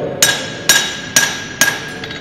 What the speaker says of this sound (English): let the hammer carry around, it can get a lot of work done